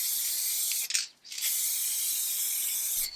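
Tinted lacquer sprays out in a steady hiss over clear lacquer, cuts off briefly for a moment, then resumes in a continuous airy hiss until the end.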